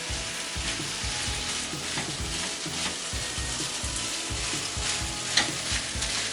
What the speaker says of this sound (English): fry it for several minutes, help the rice break up, and get it fried up